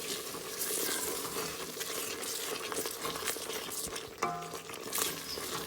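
Seasoned goat meat for a goat and cabbage curry drops into a hot pot and is stirred, filling the clip with a steady close sizzle and scraping, plus a brief metallic knock near the end.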